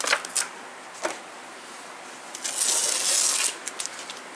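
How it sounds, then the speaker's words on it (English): Green masking tape peeled off an airbrushed piece: a few short sticky rips and crackles, then a longer tearing pull near the mic, with quiet pauses between. "Let's pull the green tape all off of it."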